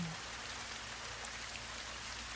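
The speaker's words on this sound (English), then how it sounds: "it's raining." Steady rain patters on a surface, a soft continuous hiss of drops with no talking, even and fairly quiet.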